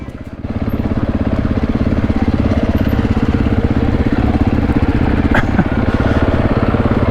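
A dirt bike engine throbs steadily on a steep descent of a rough alpine track in the Australian high country, loud and close, a fast even pulsing drone without speech.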